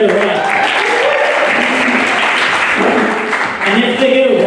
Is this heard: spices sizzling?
no